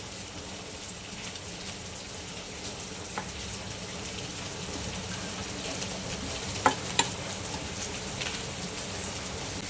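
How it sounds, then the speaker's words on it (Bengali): Onion frying in a pan on the stove, a continuous soft crackling sizzle holding steady throughout, with a couple of sharp clicks near the end and no talking. "এদিকে পেঁয়াজটা ভাজা হতে থাক"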